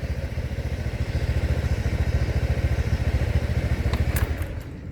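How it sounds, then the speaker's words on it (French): A scooter engine idles close by in Cambodia, a steady rapid low putter with a fast even pulse that continues for several seconds, then eases off with a faint clatter at the end. "J'allume le scooter, mais je peux toujours enlever la clé. Et le scooter est allumé."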